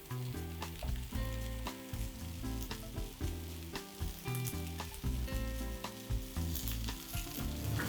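Potatoes and ground field roast vegan sausage sizzle and crackle in a hot pan, a dense close frying hiss with scraping stirs, no voices.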